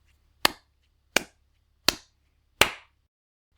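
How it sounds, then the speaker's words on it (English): Four sharp, evenly spaced hand claps echo a rhythm back during a dance exercise, each crisp and isolated against near silence, with a fifth starting at the very end. "can you clap it back with me?"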